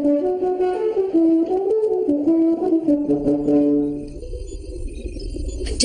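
A French horn plays a warm, mellow melody of connected notes, loud and close, fading out after about four seconds into low rumbling background.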